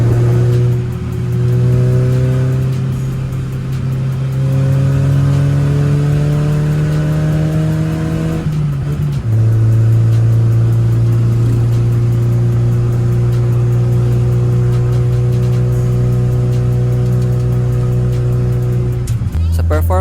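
Toyota 4K engine in a Tamiya Owner Type Jeep on a test drive with a noisy transmission, loud steady engine drone with rising gear whine that drops at a shift and climbs again, close and continuous, with someone talking over it.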